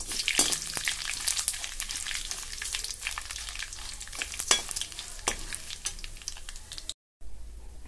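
Cumin and mustard seeds fry in hot oil with dried red chilies for an amla-mango pickle tempering. Crackling sizzle is broken by sharp pops and stirring clicks, with a brief dropout near the end.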